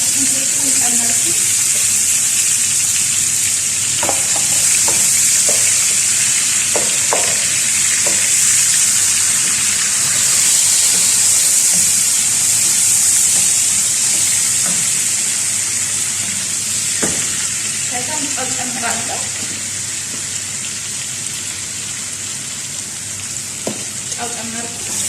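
Onions and garlic with bay leaf and spices fry in a pan for Ethiopian jersh, giving a steady loud sizzle throughout, with occasional faint stirring clinks and brief speech in the background.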